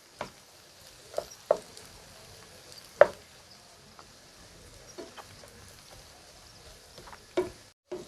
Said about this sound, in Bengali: এখন সব কিছু ভালো করে মিশিয়ে নেব।